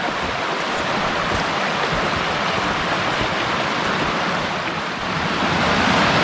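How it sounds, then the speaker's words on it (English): A small babbling brook on a mountain backpacking trail in Ontario flows steadily, a continuous close wash of rushing water with no pauses. "That's another little babbling brook."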